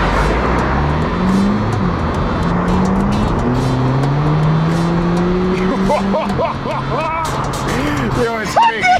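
A car accelerating hard gives a loud, continuous engine roar with rising pitch sweeping through the gears, heard from close by. Excited voices talk over it toward the end.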